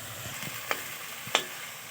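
Shredded potatoes bubble and fry in hot oil, giving a constant soft sizzling hiss with two sharp pops standing out, close up with no voices.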